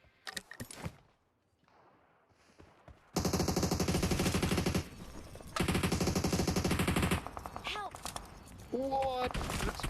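Rapid bursts of automatic gunfire during a PUBG Mobile World Cup grand finals match, loud sustained volleys broken by short pauses and a few single shots, with voices talking faintly around them.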